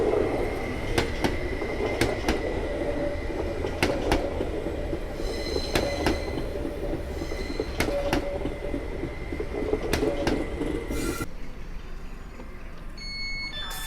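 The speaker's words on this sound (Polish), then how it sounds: "A obok nas jeżdży kolejny flirt." Stadler FLIRT passenger train running past on a station construction site in Warsaw, a steady loud rail rumble with regular wheel clicks and brief squeals, ending in a sharp change of tone as it goes by.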